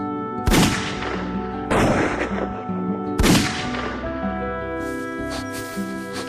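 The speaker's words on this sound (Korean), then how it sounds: "커다란 총소리가 나더니" Three loud gunshots ring out in slow succession, each booming blast trailing off with a long echoing decay over a sustained musical background.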